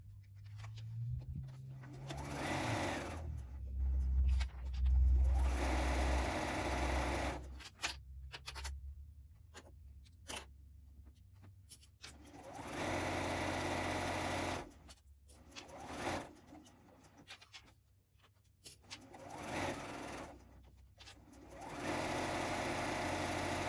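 A sewing machine stitches together pieces of a reusable fabric chain garland, its motor whirring in bursts of several seconds with short pauses between runs and nobody speaking.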